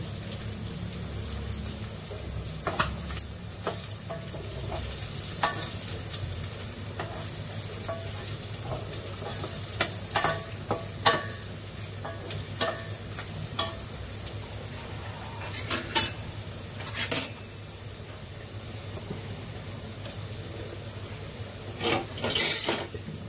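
Chopped onion sizzling steadily in a pan for a home-cooked festival meal, with scattered clinks and scrapes of stirring and a low background hum throughout.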